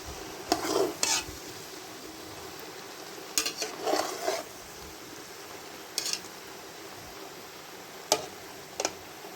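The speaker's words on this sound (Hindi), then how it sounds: "अब मैं इनको चेक करूँगी और सारे मसाले डालूँगी।" Spices being stirred into a cauliflower and chicken filling in a pan, with a low steady sizzle under intermittent spatula scrapes and taps against the pan, spaced a second or two apart, close and quiet.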